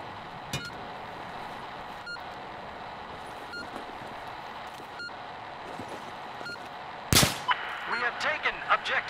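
Distant gunfire in a multiplayer shooter comes as sharp isolated shots spaced a second or two apart, then a loud close burst followed by scattered clinks and crackles, over steady background noise.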